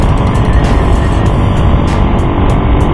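A car accelerates hard at full throttle along the Jalan Lingkar Selatan ring road in Ciamis, its engine and road roar loud, close and continuous for the whole stretch. No voices are heard.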